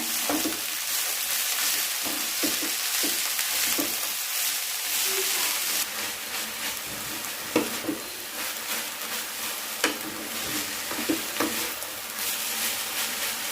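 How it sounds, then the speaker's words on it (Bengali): Red amaranth greens fry in a pan and are stirred, giving a steady close sizzle with scattered scrapes and knocks of the spatula throughout. "ভালোভাবে একটু নেড়ে নিতে হবে"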